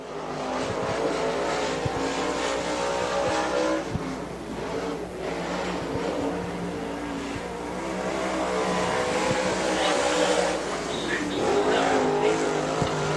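Race car on a qualifying run at Rome Speedway, Steelhead/525 class, engine roaring steadily at high revs and swelling as it passes, loud and continuous for the whole stretch with tire noise under it.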